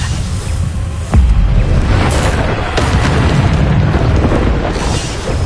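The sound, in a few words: Bombarda explosion spell from video game Hogwarts Legacy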